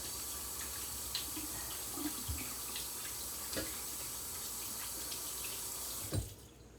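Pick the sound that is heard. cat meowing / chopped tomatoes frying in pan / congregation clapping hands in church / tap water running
tap water running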